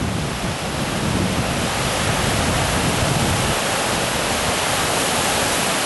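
Strong river current rushing at the point where the flow is fastest, a popular trout-fishing spot during a major storm; a loud, steady, broadband roar of moving water, continuous and unbroken, with no voices.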